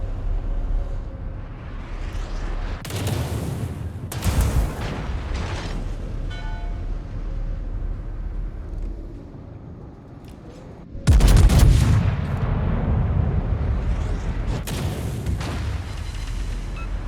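Battleship guns of the Thunderer firing in World of Warships: several heavy, booming salvos spaced seconds apart, each a loud, deep blast with a rumbling tail, the strongest near the end, with no voices.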